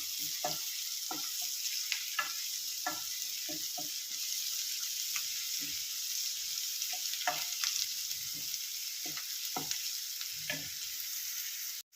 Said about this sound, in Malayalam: ഇനി ഇതെല്ലാം നല്ലപോലെ ഒന്ന് വഴറ്റിയെടുക്കാം.